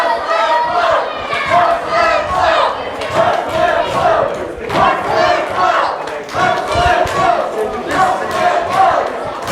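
A live wrestling crowd cheers and chants in loud, rhythmic surges to rally behind a tag team mid-match, the close, massed voices rising and falling in repeated pulses.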